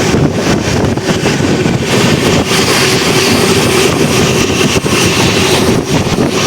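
Aboard the Tirupati Express running at high speed, close to 127 km/h, near Renigunta, a loud, constant roar of wheels and rushing wind carries on without a break.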